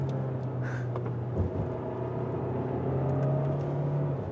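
A 2024 Hyundai Tucson Hybrid N Line with a slow-shifting 6-speed drives along with a steady low cabin hum and road rumble, a faint tonal drone and a brief thump partway through.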